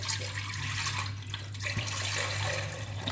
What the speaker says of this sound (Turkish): Bir sütümüzün tamamını dökelim.